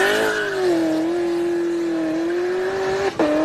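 Cammed LS V8 in a G8 sedan idles and revs nearby with a loud, steady droning tone that dips once near the end in a brief throttle blip.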